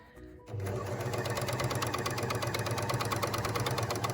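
A Bernina L450 overlocker starts up and runs steadily, stitching gathered ruffles into a single layer of fabric, a fast even mechanical whirr with rapid rhythmic clatter, close and continuous with no talking.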